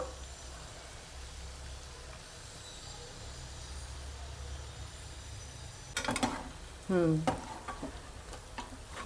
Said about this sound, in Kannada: ತಿರುಗಿಸ್ಬಿಟ್ಟು ಇನ್ನೊಂದು ಕಡೆ ಸ್ವಲ್ಪ ಫ್ರೈ ಮಾಡ್ಕೊಂಬಿಡೋಣ.